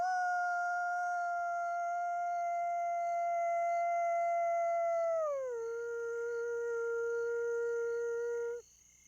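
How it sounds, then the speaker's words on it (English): A single long wolf howl in a park wilderness, held steady and then sliding down in pitch partway through before ending abruptly, heard alone and clearly in quiet surroundings. "actually hearing a wolf howl"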